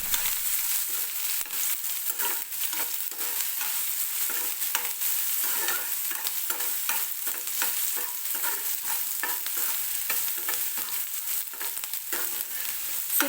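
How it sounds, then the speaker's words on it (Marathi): Onion, curry leaves and whole spices roasting in oil, a loud continuous sizzle with rapid, rhythmic stirring scrapes running throughout, close up and free of talk. "तो कढीपत्त्याची पानं आणि खडे मसाले जे घेतले होते ते सुद्धा मी कांद्यासोबतच भाजून घेणार आहे."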